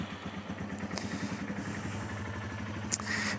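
A Yamaha TW200 motorcycle engine, freshly cleaned and rejetted carburetor, runs close by in a backyard with a steady low thumping idle and a few light clicks and clatters.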